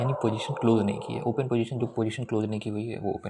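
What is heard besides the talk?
None of the usual background noises is heard.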